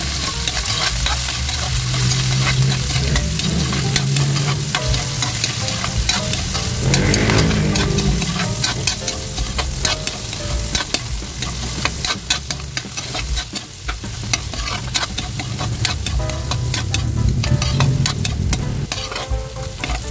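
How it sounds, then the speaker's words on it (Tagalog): Shrimp sauté in hot oil with a loud, dense, continuous sizzle and crackle up close, overlaid with frequent scraping and clattering as a spatula stirs them around the pan. "Maglalagay lang tayo ng mantika. Unahin lang natin guys na igisa itong ating hipon."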